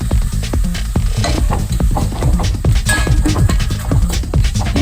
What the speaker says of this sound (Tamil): இப்போ வந்து நம்ம நல்லா வதக்குவோம்.